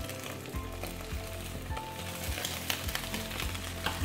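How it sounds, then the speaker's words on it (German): An egg pancake fries in a coated pan, giving a loud, steady sizzle and crackle up close with occasional scraping from a wooden utensil, and no talking. "Und dann kann es auch von unten noch schön so braun-rötlich anbraten und dann ist der Eierkuchen schon fertig für die Suppe"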